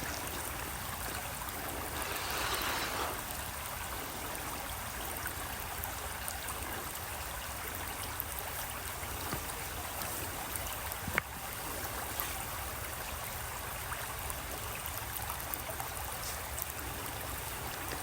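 Steady running water is poured over a plant's roots to rinse them clean before potting, a continuous soft trickle and splash close by with no talking.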